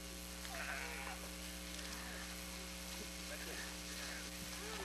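Several sheep bleat at a distance over a steady low electrical hum, their wavering calls overlapping at irregular intervals.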